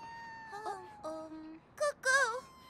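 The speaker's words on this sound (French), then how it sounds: "c'est mon chat Coco, il est coincé dans cet arbre" An animated cartoon cat stuck in a tree gives a few plaintive meows, high and drawn out, with short gaps between them and the last ones louder.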